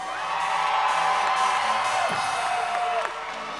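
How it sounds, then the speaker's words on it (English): An audience at a costume contest cheers and applauds for an Alice in Wonderland costume, a loud, sustained wash of crowd noise with whoops and shouts that cuts off near the end. "If you want Alice in Wonderland to win, give me a big round of applause."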